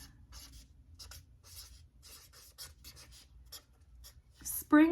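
Pen nib scratching across the paper of a Hobonichi Cousin planner, several short bursts of writing strokes close to the microphone, with a louder scrape at the end and a voice heard faintly.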